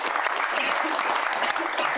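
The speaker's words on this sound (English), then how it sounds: "she deserves a round of applause just for the crowdfunding" A full audience round of applause at a televised show, steady clapping from a crowd filling the whole moment, moderately distant and even.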